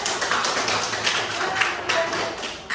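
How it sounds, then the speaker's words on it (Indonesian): Classroom of students clapping for a group that has just finished, a dense, steady patter of many hands held close by over the full length, with some chatter mixed in. "beri tepuk tangan untuk kelompok 3"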